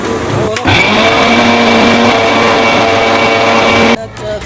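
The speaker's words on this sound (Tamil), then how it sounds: "இப்ப மிக்சியில போட்டு அரைச்சு பவுடர் பண்ணி கொண்டு வந்து காட்டுறேன்" A mixer grinder whirs loudly for several seconds, grinding roasted ingredients for a hair health mix into powder, with an abrupt start and a sudden stop; no talk.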